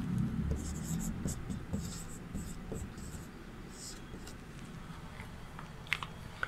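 Chalk or marker scratches and taps on a board during a Class VIII Sanskrit lesson, the writing strokes coming in short bursts under steady classroom noise and a teacher's voice.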